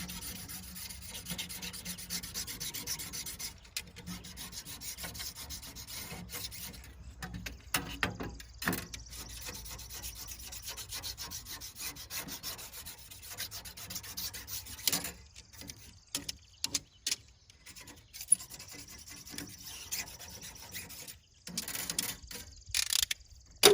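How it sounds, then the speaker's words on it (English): Rubbing and wiping scrape along a pruning razor knife blade as pitch is cleaned off it during fir tree shearing on a Christmas tree farm, with steady rasping strokes broken by short gaps, close and moderately quiet. "Get all the pitch off of the blade."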